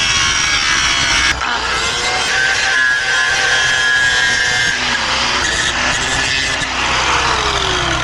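Cutting and grinding on a steel plate from an enclosed trailer tongue during a coupler replacement, a loud continuous abrasive whine that holds steady for several seconds with slight shifts in pitch and no talking.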